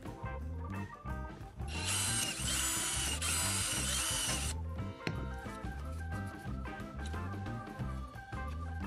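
A power drill bores holes into the mount of a headlamp, with a loud high whine for a few seconds. Rhythmic thumping music plays before and after it.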